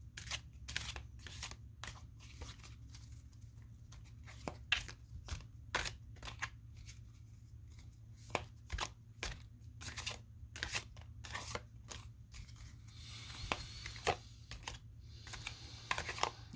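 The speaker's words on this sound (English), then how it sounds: "As I'm shuffling" Tarot cards being shuffled in quick, crisp bursts of riffling and tapping, fairly quiet and close, repeating irregularly with brief pauses.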